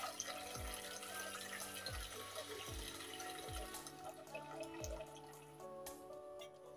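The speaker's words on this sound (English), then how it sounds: "So I'll add water in a sufuria." Water runs into a sufuria cooking pot in a home kitchen, a steady splashing fill with soft hollow knocks of the pot, fairly close and continuous.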